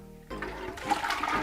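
Rinse water swirled around a pan while making homemade mango wine, a soft sloshing, gurgling wash of liquid heard close up and alone for a moment after a quiet start.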